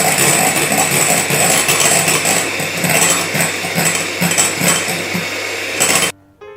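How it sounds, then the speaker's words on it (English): An electric whisk beats egg whites for a Grand Marnier soufflé, a steady loud whirring buzz with slight rhythmic fluctuations as the beaters move through the bowl, running continuously for about six seconds before cutting off. "grab your electric whisk from its secret hiding place and whisk the whites until they are stiff"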